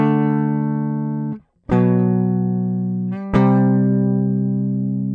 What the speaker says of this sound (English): Today I'm going to select a